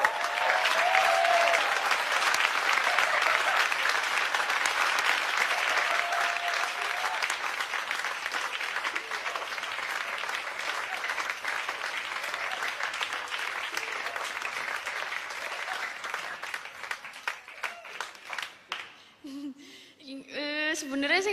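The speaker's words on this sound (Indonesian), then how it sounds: "Coba tepuk tangan dong buat Cinta dong" Sustained audience applause at an Indonesian gathering, dense and steady for most of the stretch before thinning into scattered claps, with brief voices over it and a voice speaking at the end.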